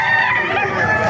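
A rooster crows in a short, loud, close burst, with the call trailing off within a second.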